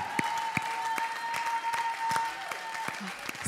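A church congregation stands to applaud and acclaim God during a French-language worship service, steady clapping filling the room with a few voices calling out over it.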